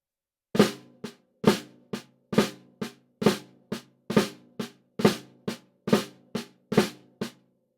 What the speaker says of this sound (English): The flam tap sounds like this.